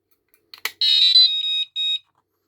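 A Prologic 4+1 carp fishing bite alarm sounds alone, with a short double chirp and then a sustained electronic tone broken into three bursts. It is close and fairly loud.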